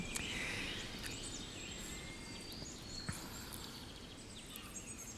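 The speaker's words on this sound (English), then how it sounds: "There are several birds singing" Several birds chirp and sing faintly in the distance over a steady outdoor background hiss, with occasional brief clicks.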